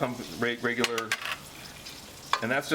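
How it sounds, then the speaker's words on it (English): Spices toast in melted butter in a pan with a soft sizzle and brief stirring scrapes, heard in short bursts close up. "take butter, melt it down, toast some of our spices in there until they become fragrant"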